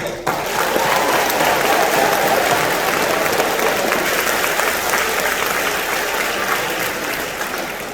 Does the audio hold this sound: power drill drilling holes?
no